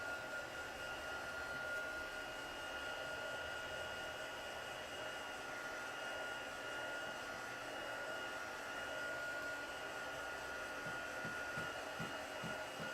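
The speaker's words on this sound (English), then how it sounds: "I'm grabbing my embossing gun and I'm just going to hit this and just help it dry a little bit faster" An embossing heat gun blowing on drying paint on a mixed media floral piece, a steady, fairly quiet whooshing hum that runs unbroken and without talk.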